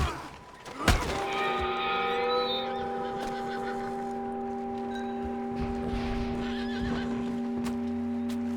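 In the video game Red Dead Redemption 2, a sharp crack is followed by a horse's loud, drawn-out whinny, then quieter snorts and a few hoof clops against a low background.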